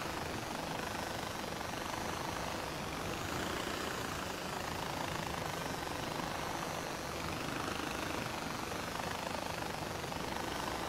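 Helicopter in Far Cry 4, a steady, loud rotor and engine roar that fills the whole stretch without a break and is heard alone.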